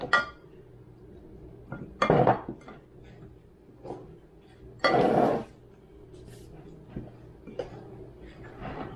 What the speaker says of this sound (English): we're going to mix all this into here